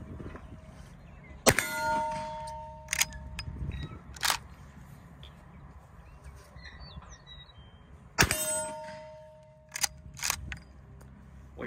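Two sharp, loud gunshots from a Winchester 1892 lever-action rifle fired at targets outdoors, several seconds apart, each followed by metallic clanks and pings from the action and struck steel.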